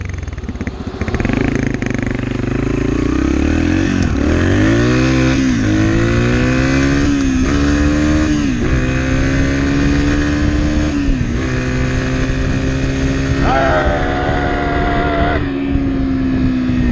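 A dirt bike engine revs loudly and steadily for the whole stretch, its pitch climbing and dipping as the throttle rises and falls, close and continuous with no talk over it.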